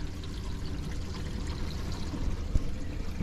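Saltwater from a 90-gallon mixed reef aquarium drains down into the sump, a steady turbulent pour and trickle of water running continuously at close range with no talk.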